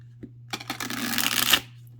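A deck of Feline Rider tarot cards is shuffled by hand. A few soft taps lead into a close, crisp riffle of about a second, set against a low steady hum.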